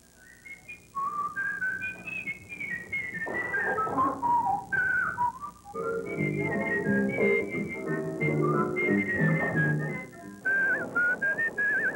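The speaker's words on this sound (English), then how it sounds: "What you're looking at and listening to is the National Whistlers Competition" Contestants at the National Whistlers Competition in Lewisburg, North Carolina whistle a sustained, wavering melody with fast trills and glides. A busier musical backing sits underneath, and the whistling carries loud and continuous throughout.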